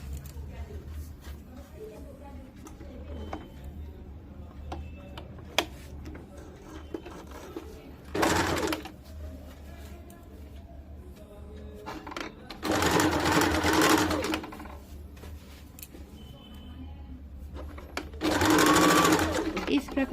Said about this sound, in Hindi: इस प्रकार से पूरे गले में सिलाई कर लीजिए